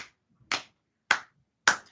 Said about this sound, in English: I will begin just a simple pattern of body percussion. I might pat my legs and clap my hands